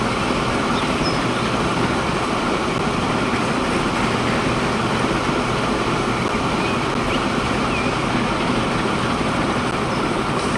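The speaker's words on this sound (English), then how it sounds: "We've got another train following us." A train rolls past in Transport Fever 2, a steady dense rumble with constant wheel and track noise that holds at an even loudness throughout, close and continuous with no voices.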